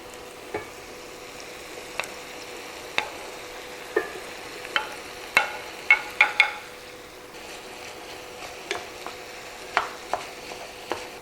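Ground beef and onions sizzle steadily in a pan while a utensil stirs them, giving a string of sharp scrapes and knocks every second or so over the continuous frying hiss.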